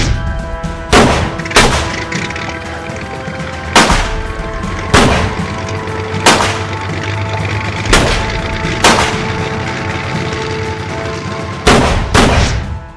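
Gunshots ring out in a Vietnamese police action film scene, about ten loud, sharp single shots spaced irregularly over a rumbling background, with no talk.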